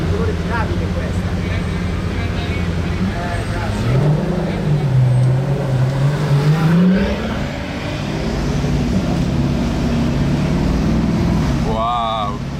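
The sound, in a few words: Pagani Utopia supercar driving past on the road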